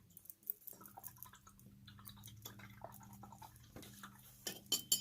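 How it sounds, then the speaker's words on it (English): A paintbrush swished and tapped in a water cup during a painting class, with faint, scattered drips, small splashes and light clinks of the brush against the container, quiet and close over a low background hum. "Rinse it in the water and then just round it, roll it onto the paper towel."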